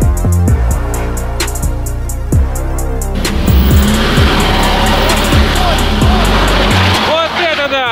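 A VAZ 2101 with a regular eight-valve carburetted Zhiguli engine and 4x4 conversion, driving hard off-road, with loud engine revving and sharp knocks and thumps from the rough ground, under occasional voices.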